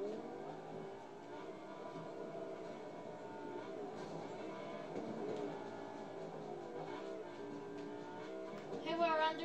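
A train passes with a sustained rumble and layered metallic rolling tones that hold steady for several seconds, rising briefly louder near the end.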